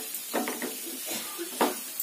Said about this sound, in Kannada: ಈಗ ಬೇಯಿಸಿದಂತ ಆಲೂಗೆಡ್ಡೆ ಹಾಕೊಳ್ಳೋಣ. ಇದನ್ನ ಕೂಡ ಎಣ್ಣೆನಲ್ಲಿ, ಎಣ್ಣೆ ಮತ್ತೆ ತುಪ್ಪ ಹಾಕಿದೀವಲ್ಲ, ಒಂದ್ ಸ್ವಲ್ಪ ಫ್ರೈ ಮಾಡಿ